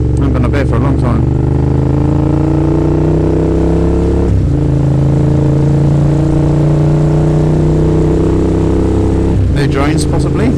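Road traffic is heard from a motorcycle in heavy traffic on a street torn up for roadworks, with a loud, steady engine drone that rises and dips and someone talking over it.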